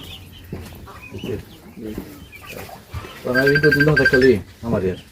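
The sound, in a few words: native chickens clucking on a farm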